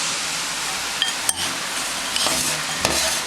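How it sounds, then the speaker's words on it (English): Cooked millet with macadamia nuts and currants is tossed in a pan over a steady soft sizzle, with a few sharp clinks and scraping bumps of the pan and utensil standing out briefly. "Just give that a really good toss,"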